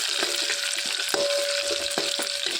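Garlic, mustard seeds, cumin and urad dal sizzle in hot oil with a steady frying hiss, punctuated by sharp pops and crackles from the seeds, up close and without talk.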